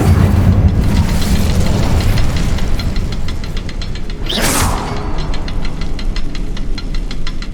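A fire spell, Incendio, blasts in Hogwarts Legacy as a loud, continuous roaring burst of flame with a sharp whooshing flare midway, over rhythmic mechanical knocking in the background.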